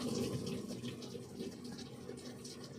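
A washing machine fills with water, giving a faint, steady, continuous rush and trickle from start to finish with no speech.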